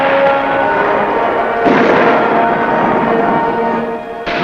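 Sustained military artillery fire against enemy positions near a Marine base, a dense, continuous roar of booming and rumbling with sharper bursts around two seconds in and again near the end, loud and close with no talk.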